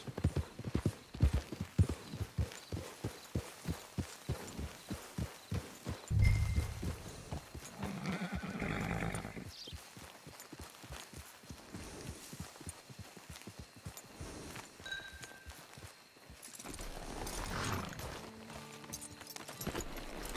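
Horse hooves clip-clopping in Red Dead Redemption online, a steady rhythmic gait of many hoofbeats close by, briefly thinning mid-way and joined by a faint neigh and other game sounds.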